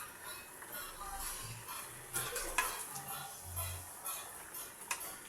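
Meat stirred by hand in a kadai, soft wet squelching and light scraping with a few sharp clicks, fairly quiet and close, no speech over it.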